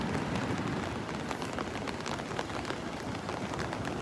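Rain falling on Delnor-Wiggins State Park beach in Naples, Florida, a steady broadband patter with scattered heavier drops, continuous and fairly close, no voices.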